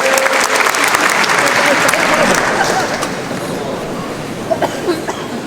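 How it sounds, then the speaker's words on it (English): An audience at a strategy talk gives itself a round of applause, a thick, sustained crowd clapping that thins toward the end as people settle, with a few isolated claps and some voices. "Give yourselves a round of applause and take a seat."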